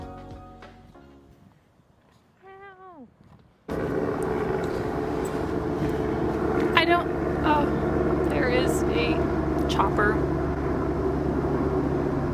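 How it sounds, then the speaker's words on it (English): Police helicopters flying over downtown Los Angeles produce a loud, steady engine-and-rotor roar that starts abruptly after a quieter opening and holds to the end, with faint chirping sounds above it. "I live pretty close to where the downtown LA police department keeps their helicopters, so that's a common noise."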